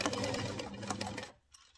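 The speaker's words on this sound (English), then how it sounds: "Now you sew it up." A sewing machine stitches a sleeve onto a blouse, running in a steady fast whir of stitches before stopping abruptly, with a short click after the pause.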